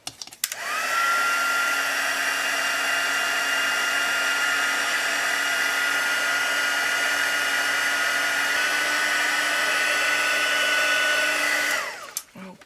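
A heat embossing tool blows hot air to set white embossing powder, a steady loud fan whir that starts abruptly and runs evenly for about eleven seconds before cutting off.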